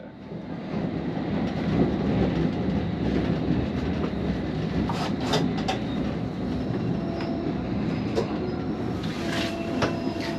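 A London Underground District line train rolls toward Tower Hill with a steady rumble and clatter of wheels on track, heard from the front cab, with a few brief squeals and clicks near the end.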